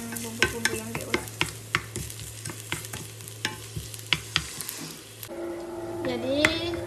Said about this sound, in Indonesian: Jadi digoreng hingga menguning ya teman-teman.